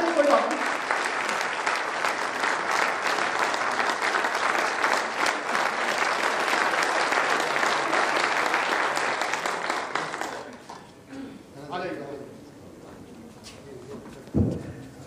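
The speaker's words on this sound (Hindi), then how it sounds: "जोरदार ताली बजाते, बैठ जाइए," Loud applause from an audience at a meeting, steady clapping for about ten seconds that fades out, followed by quieter room sounds and a few thumps.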